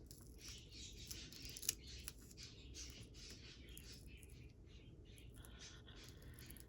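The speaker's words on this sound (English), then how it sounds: "My birds are happy babies today. I can hear them just chirping away in the next room." Pet birds chirp and squawk faintly from a distant room across the house, scattered soft tweets over a quiet indoor background, with one brief sharper chirp.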